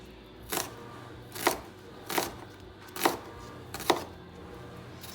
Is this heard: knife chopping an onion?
yes